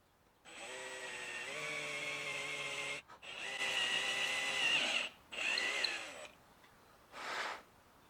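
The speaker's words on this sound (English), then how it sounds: "I'm making a point of drilling fairly slowly and making sure that the drill bit doesn't suddenly catch" A power drill whines through several sustained bursts with shifting pitch as it slowly bores into a wooden guitar body, then a short final run.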